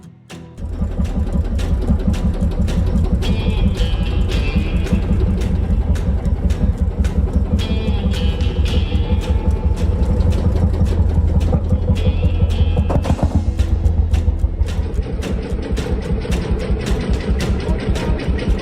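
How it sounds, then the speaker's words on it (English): A Lanz Bulldog D1616 vintage tractor on rubber tires, built by Heinrich Lanz AG in Mannheim, Germany, between 1955 and 1960, runs with a loud, steady, rapid thumping engine rhythm that carries on throughout with no talking. "D1616 is a classic tractor manufactured by Heinrich Lanz AG between 1955 and 1960 in Mannheim, Germany"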